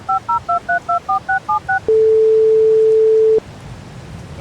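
Cell phone dialing inside the Farming Simulator 22 video game: a quick run of about ten crisp keypad tones, then a single long steady tone that cuts off, with quiet background after.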